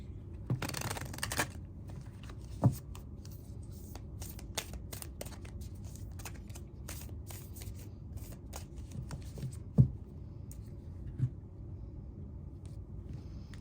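Cards drawn from an Isis Oracle deck, with a soft, close rustle of shuffling and sliding cards, a few sharper taps and snaps as cards are set down, quiet and without speech.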